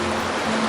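Cold glacial meltwater of a river in Nepal rushes steadily as a cyclist gets ready to cross, a loud, close, unbroken flow with no talk.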